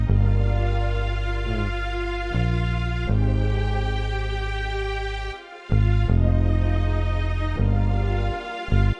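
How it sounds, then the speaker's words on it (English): Sustained string chords in an FL Studio trap-style beat, loud and full, changing every second or so with brief gaps between chords; no voice. "Now with the strings, it sounds like this."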